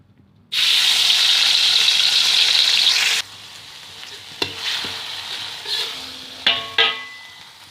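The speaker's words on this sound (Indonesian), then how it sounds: "Oke, pertama kita masukkan tadi cabenya ya." Green chilies drop into hot oil in a pan with a sudden loud, bright sizzling burst that lasts about three seconds, then fades to a quieter crackle with scattered clicks and scrapes of stirring.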